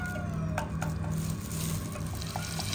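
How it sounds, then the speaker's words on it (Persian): Onions frying in animal fat in a large pot for kalleh joosh, a steady loud sizzle with occasional stirring clinks throughout, no talking. "پیاز رو میریزه توی دیگه بشنگ سرخ بشه"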